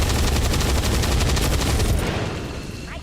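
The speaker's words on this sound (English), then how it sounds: "Open fire until he dies" Rapid bursts of gunfire from soldiers in the video game XCOM 2, a dense loud rattle of repeated shots that tapers off into a fading echo near the end.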